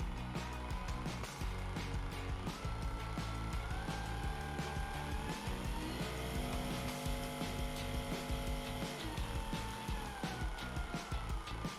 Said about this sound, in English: It is also important to know about the noise level of the massage gun